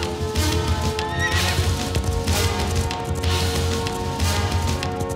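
A horse gallops through a forest with loud, continuous pounding hooves and a sharp neigh, set in a Bollywood action-adventure chase scene with a dense, full soundtrack.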